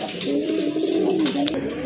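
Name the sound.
racer pigeons cooing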